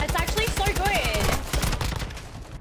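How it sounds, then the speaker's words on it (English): Rapid gunfire from the Call of Duty video game, played through an HF8 gaming pad, crackles in dense repeated bursts, loud and close, with brief talk and other game sounds mixed in. "Literally every single gunshot is giving me feedback."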